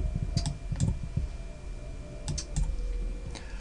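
Keys are tapped on a computer keyboard while a username and password are entered: quiet, scattered clicks in small clusters, close up against a low steady hum.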